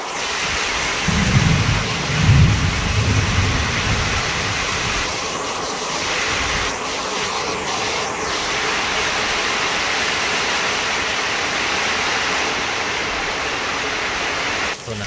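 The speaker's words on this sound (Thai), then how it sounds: "ฝนตกหนานี่มันสิล่มแน่น่ะ" Heavy rain pours steadily on a village in Chiang Kham, Phayao, in a dense, loud, unbroken hiss, with a low rumble near the start and a few faint knocks partway through.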